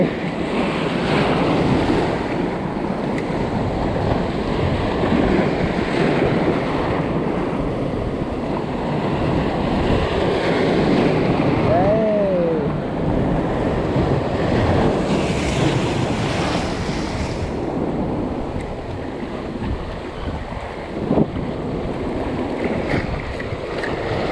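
Strong surf and gusting wind hit the Rayong shoreline near a harbor during a fishing trip, a loud continuous roar of breaking waves mixed with heavy wind buffeting the microphone.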